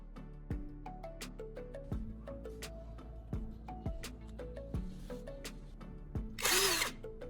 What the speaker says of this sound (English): I'm taking this bottle cap and drilling a precise hole right in its center.